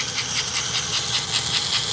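A model steam locomotive's smoke unit gives off a steady, close hiss with a faint rhythmic pulsing chuff underneath, continuous and alone.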